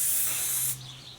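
SC1 spray lubricant hisses from an aerosol can onto the joints of a hydraulic motorcycle jack, one close, steady spray burst that cuts off sharply, then a faint trailing hiss.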